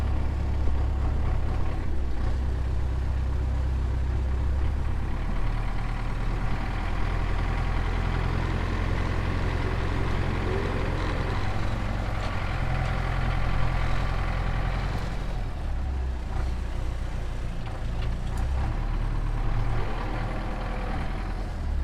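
A tractor on an Australian farm at seeding time strains to tow a bogged scarifier free, its engine droning steadily with a deep, continuous rumble that rises slightly midway.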